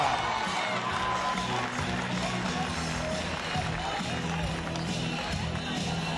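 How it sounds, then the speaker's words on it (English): A basketball arena crowd breaks into a sustained wash of applause and cheering, dense and steady throughout, with an announcer's amplified voice talking over it. "Congratulations, round of applause, ladies and gentlemen"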